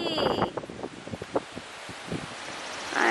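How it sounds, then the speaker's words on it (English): Wind blows outdoors at a historic lodge and rumbles against the microphone in gusty bursts. Rustling noise rises and falls under brief scattered sounds, with a stronger gust at the end. "Ah, it's windy."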